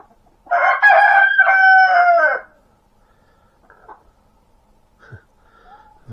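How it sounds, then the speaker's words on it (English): A rooster crows loudly and close inside a greenhouse, one long drawn-out call, followed by a few short, softer clucks from hens spaced apart. "Everybody loves a good bit of chicken TV."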